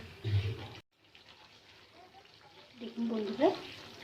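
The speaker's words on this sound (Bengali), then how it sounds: "আমি এই বাটির 1 বাটি জল দিয়েছি।" Water hits hot, spiced masala frying in oil for doi katla, a Bengali fish curry, making two short hissing, splashing bursts separated by a quieter pause, under light background talk.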